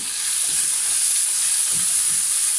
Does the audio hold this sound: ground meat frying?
yes